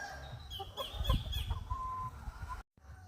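A pure Gilmore gamefowl pullet clucks in short, close calls, a few soft cackles running together over faint background noise before a brief cut.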